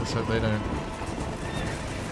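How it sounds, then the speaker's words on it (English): Horses in the video game Red Dead Redemption neigh and whinny with clip-clopping hooves as they run, heard under a voice speaking over the game. "Putting these horses through their paces."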